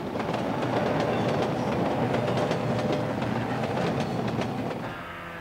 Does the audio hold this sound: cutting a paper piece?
no